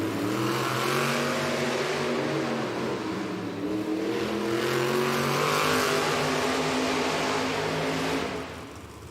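Monster trucks fire up and race in a Monster Jam stadium event in Louisville, Kentucky, their engines roaring loud and sustained with rising and falling revs and crowd-filled stadium ambience, fading slightly at the end.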